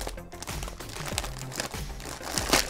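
Plastic wrapping crinkled while unboxing an ultralight mini backpacking wood stove, a close series of sharp crackles and rustles in irregular bursts, with a louder crunch near the end.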